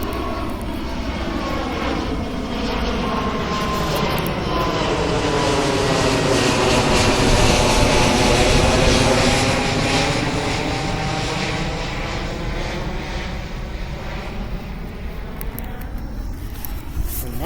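A Spirit Airlines Boeing jet airliner passes at Richmond airport, its loud engine roar swelling to a peak midway and then slowly fading, with a sweeping whine over a steady broadband rumble and no talk.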